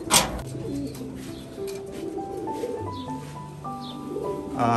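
Giribaj pigeons coo close by in a loft, with soft overlapping low coos that rise and fall continuously and a sharp flutter or knock at the start.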